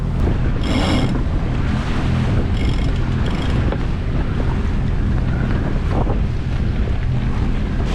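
Strong wind roars steadily over a sailboat on a beam reach in 20-25 knot winds, crossing from Samsø to Grenaa in Denmark, loud and unbroken, with the sea churning beneath it.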